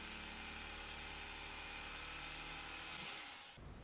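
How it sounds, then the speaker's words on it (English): A cheap electric fillet knife cuts through thick foam, a steady faint motor whine and buzz that holds evenly, then cuts off abruptly near the end. "Picked up a cheap electric fillet knife at Walmart."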